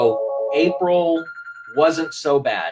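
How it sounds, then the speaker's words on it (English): A telephone rings in a room, a steady electronic tone held between phrases of a man's speech. "sorry about the phone there"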